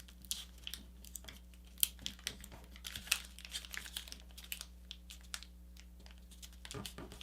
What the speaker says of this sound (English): I'm going to go ahead and just fold this little edge here, this raw edge, over the edge that's on the layer on top